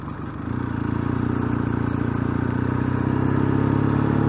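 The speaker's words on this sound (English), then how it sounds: "the camera picks up all the tappet noises and the engine noises" A Triumph motorcycle engine runs steadily at close range, its low throbbing drone mixed with a fine rapid ticking of tappets, rising slightly in level and continuous throughout, no voices.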